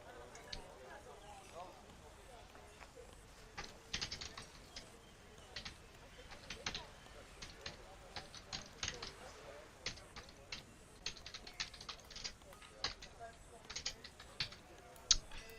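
Typing on a computer keyboard: bursts of quick, crisp key clicks, quiet and close, with irregular pauses, under occasional soft talking.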